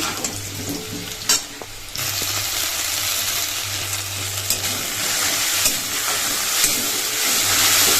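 Small-cut potatoes fry in hot oil for aloo dum, a loud, close, continuous sizzle and hiss with occasional stirring clatter, with no talk.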